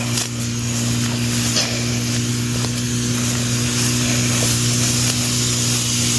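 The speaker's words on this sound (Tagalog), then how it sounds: "Kung may power spray kayo, hose na lang ang kailangan." Power sprayer running steadily while spraying bitter gourd plants, a constant motor hum with a fine hissing spray layered over it, close and unbroken, with no talking.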